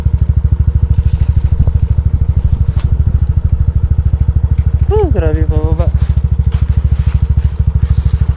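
A motorcycle's engine rumbles steadily and loudly throughout a downhill ride on a mountain road, its brakes heating up, while a rider speaks briefly over the engine noise.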